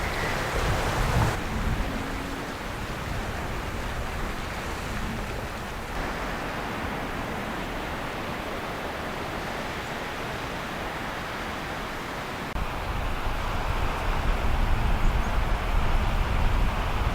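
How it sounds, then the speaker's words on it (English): Small waves lap steadily against a bay shore in Coigach, Wester Ross, northwest Scotland, with wind rushing over the water; a continuous, fairly close wash with no talking. "it's very peaceful still with that sound of the waves lapping"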